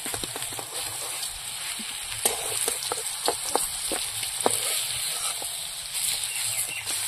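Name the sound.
potatoes frying and sizzling in pan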